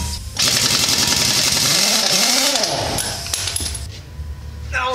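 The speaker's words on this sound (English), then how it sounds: "we're going to use the lower rated impact gun with the big air hose to take a" A pneumatic impact gun on a big air hose working a lug nut off a semi truck wheel, a loud, close, continuous rattling hammer with a rising and falling whine that lasts nearly the whole five seconds.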